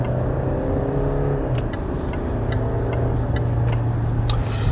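A Land Rover Discovery Sport SUV pulls away on a test drive, its engine humming steadily from inside the cabin, joined in the second half by a light, regular ticking.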